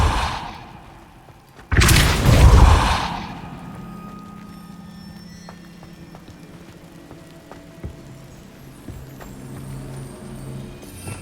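Depulso spell effect in the video game Hogwarts Legacy: a sudden loud whooshing burst about two seconds in, lasting roughly a second, then fading into quiet ambience with small scattered clicks.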